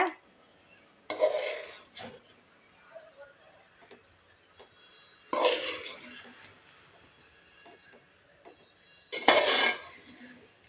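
A spoon stirring cooked pea pulao rice in a pot, three separate bursts of scraping and clinking against the metal, each lasting about a second, with quiet stretches between them.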